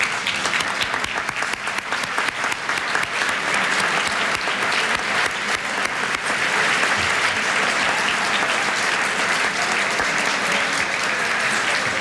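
Sustained, dense applause from a large audience at the 2001 National Book Awards ceremony fills the whole stretch, steady and loud without a break.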